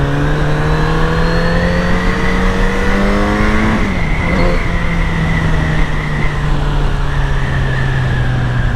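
Kawasaki Z900RS retro motorcycle riding through town streets, a loud steady engine drone that climbs in pitch, drops sharply at a gear change, then pulls up again, close and continuous with no talking.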